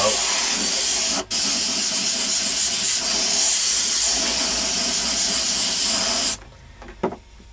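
An airbrush sprays paint onto a stencil on a Peter Criss T-shirt, giving a loud, continuous hiss with one brief break. It stops near the end, leaving a quiet room and a small click.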